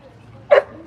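A single short bark from a large puppy weighing about eight stone, close and sharp, cutting through a quiet background.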